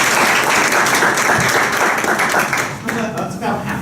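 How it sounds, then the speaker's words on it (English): Loud, dense audience applause fills a comedy magic show venue, steady clapping from a crowd that thins slightly toward the end, with voices mixed in. "By another round of applause, who has never seen me before?"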